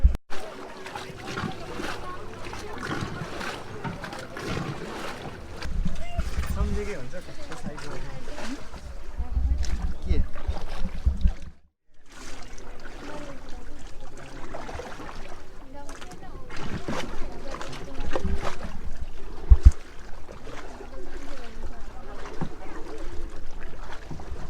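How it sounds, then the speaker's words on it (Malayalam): A shared boat made of two wooden canoes joined by planks moves on a lake in Pokhara, Nepal, with soft water splashes and lapping under continuous nearby talk. "ഇതാണ് നമുക്ക് പോകാനുള്ള ബോട്ട്."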